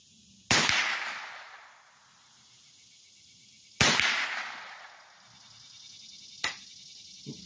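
Three sharp .22 rifle shots at an outdoor shooting range, fired from a sitting position at 40 yards, each a loud crack with a ringing decay, spaced a few seconds apart.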